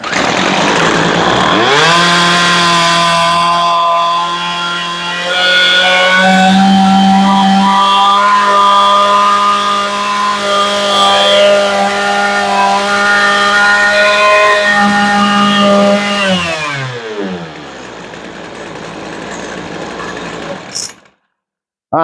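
A Poulan Pro PP025 weed eater's two-stroke engine runs close and loud during a carburetor adjustment, rising from idle to a high buzzing rev, holding, then winding back down before cutting off.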